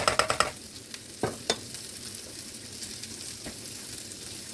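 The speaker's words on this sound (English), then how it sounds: "And put the broccoli in, simmer it on low" Noodles and broccoli cooking in a pot on low heat, a soft bubbling sizzle with a quick burst of clinks and stirring knocks at the start, then a steady quiet simmer.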